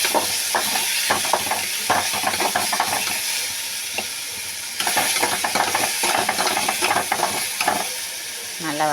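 Ridge gourd sautés in a pan for chutney, a loud continuous sizzle and hiss broken by rapid clicking of a spatula stirring against the metal, close up and without talk.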